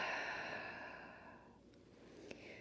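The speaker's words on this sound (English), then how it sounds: "Open mouth, exhale with the ha sound" An open-mouthed 'ha' exhale during yoga breathing, a long breathy whoosh that fades steadily over about a second and a half, followed by a quiet pause and a faint soft sniff or click. Close and clear, with no talking.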